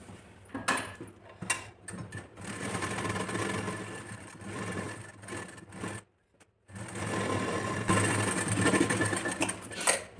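A sewing machine stitches blouse fabric for a princess cut blouse in 39 chest size. It whirs steadily and closely in runs, with a short pause of silence partway through before it picks up again.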